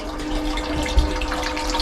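Water running through a boat engine on long hoses during a leak test, a steady close rush and trickle with a low pump-like rumble and one soft thump.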